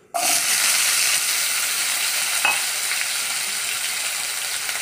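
Potatoes dropped into a hot pan with fried fish roe set off a sudden loud sizzle that holds as a steady, close frying hiss, tapering only slightly over a few seconds.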